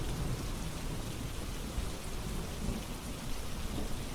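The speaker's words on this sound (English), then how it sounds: "Listen to the sound of the rain gently falling in the background." Rain falls in a steady, soft hiss with a low rumble of distant thunder beneath, even and unbroken throughout with no voices.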